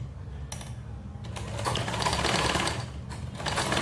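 A sewing machine stitches down an elastic casing on a ruched skirt, its rapid mechanical chatter close and loud, running in bursts with brief pauses between.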